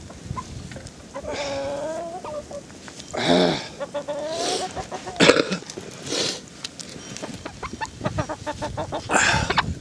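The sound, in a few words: chickens clucking during rescue in storm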